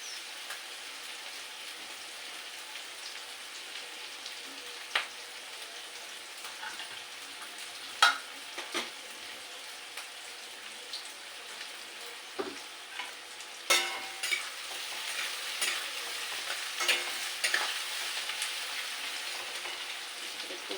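Teasel gourd fries in a pan with a soft, continuous sizzle, punctuated by occasional sharper crackles and stirring clicks, fairly quiet throughout.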